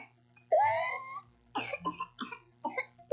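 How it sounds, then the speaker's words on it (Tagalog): A child with whooping cough (pertussis) coughs in a series of harsh bursts, starting with a long drawn whooping breath followed by several short, close coughs. "Baka pertussis o whooping cough na yan."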